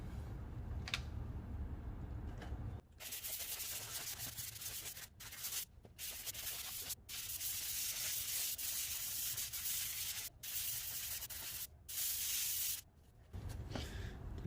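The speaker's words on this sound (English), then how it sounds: "I'm just gonna sand it." The edges of a drywall patch are hand sanded with steady, close abrasive rubbing in long strokes, broken by brief pauses between passes, loud and continuous with no talk.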